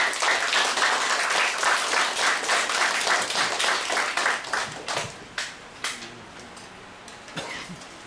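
An audience at a cultural heritage society lecture applauds to welcome the lecturer, a full burst of clapping that thins into scattered claps and a few coughs before falling quiet.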